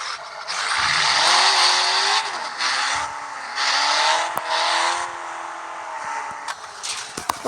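In the mobile game Car Parking Multiplayer, a BMW M5 engine surges and drops repeatedly while racing, its pitch sweeping up and down, with bursts of tire skidding and a few sharp knocks toward the end.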